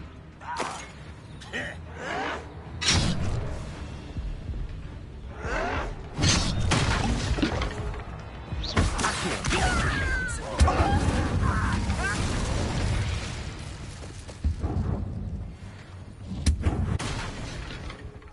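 Confringo fire-spell blasts in the video game Hogwarts Legacy, a series of loud bursts and cracks scattered through a chaotic combat mix, with shouted voices and grunts in between.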